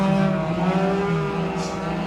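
410 sprint race cars race at Merced Speedway, engines droning and whining steadily at a distance with shifting pitch as the pack circles the track.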